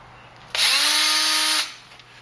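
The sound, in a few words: drilling a closed-end handguard end weight clamped in a vise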